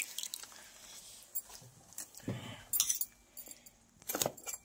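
Bitter gourds (karela) being washed by hand in water, intermittent splashes, drips and squishy rubbing with light clinks, close and fairly quiet.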